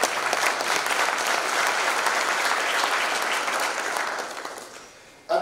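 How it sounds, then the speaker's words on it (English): Conference audience at an opening ceremony in Livingstone, Zambia, breaking into sustained applause, a thick wash of many hands clapping that holds steady, then tapers off toward the end before a final sharp sound. "you all deserve a big round of applause for yourselves"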